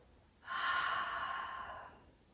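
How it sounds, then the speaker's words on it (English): A single slow breath during a yoga session, one soft, airy exhale lasting about a second and a half, close and quiet against a silent room. "Inhale, exhale."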